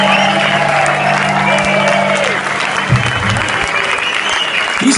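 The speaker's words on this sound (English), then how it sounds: "Please give a big round of applause," Concert audience at a surf music show applauds the band, a loud continuous wall of clapping with some cheering, with faint speech mixed in at points.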